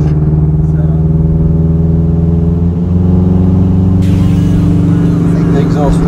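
A Honda Civic EK4 VTi engine drones at a steady, low, buzzy pitch through a modified exhaust, loud and close, with a sharp rise in intensity near the end.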